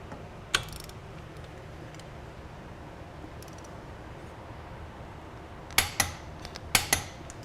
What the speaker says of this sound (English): The last process is to torque to specification these mounting bolts.